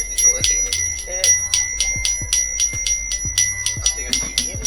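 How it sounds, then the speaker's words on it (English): A small hand bell rung repeatedly to clear energy, a fast run of bright metallic strikes with sustained high ringing tones, close and clear, while a person speaks softly underneath. "Forgot to ring my bell before I got started, so let me go ahead and do that."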